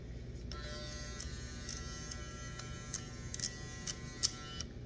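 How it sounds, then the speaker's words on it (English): A Wahl Disruptour electric hair clipper runs steadily with a faint, even buzz and hum, joined by a few light ticking clicks, heard alone without talk. "To me, it sounds like a cheap clipper."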